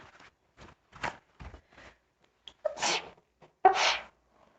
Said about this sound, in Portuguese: Nossa, demorou pra me espirrar.